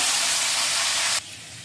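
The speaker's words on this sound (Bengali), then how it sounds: "তারপরে ফোড়নটা ফুটে উঠুক," Black cumin seeds hit hot oil with a loud, close, hissing sizzle that drops sharply to a quieter simmer partway through, with no talking.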